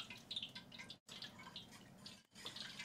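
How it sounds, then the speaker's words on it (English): A quart of vegetable broth poured into a pot for Khao Soi noodle soup, a soft continuous liquid splash and trickle with two brief pauses, close and quiet. "Just about ready to add our vegetable broth to it. We'll go ahead and add that now. 1 quart of vegetable broth."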